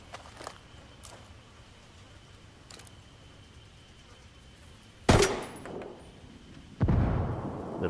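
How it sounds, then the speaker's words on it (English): Grenade launcher shots ring out in the video game Ghost Recon Wildlands: two loud, sharp, booming bursts a couple of seconds apart, each followed by a brief rumbling tail, after quiet ambient noise and a few faint distant pops. "I'm going to try to hit it with the grenade launcher."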